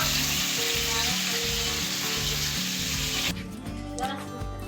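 Small fish fry in a pan of hot oil, giving a loud, dense, continuous sizzle close by, easing slightly in intensity toward the end.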